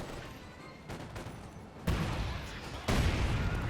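Sniper rifle shots in a WWII strategy video game, with two sharp heavy cracks about a second apart over a low battlefield rumble.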